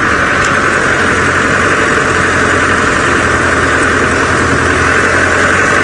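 Safari vehicle engine rumbling loud and steady while driving over wet, muddy ground, a constant close drone with no talking.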